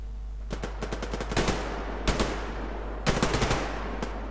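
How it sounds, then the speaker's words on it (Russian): Gunfire in the online shooter Survarium, aimed at the player by a sniper, comes as several loud clusters of sharp rapid shots separated by short pauses, over a constant low hum. "по мне снайпер работает"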